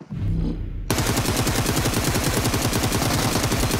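Rapid automatic gunfire from the battle royale video game PUBG, a sustained loud burst of evenly spaced shots starting abruptly after a quieter opening moment and continuing to the end.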